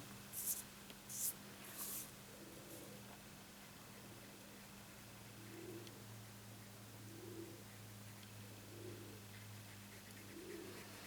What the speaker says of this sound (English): there's obviously a pigeon sitting up on our roof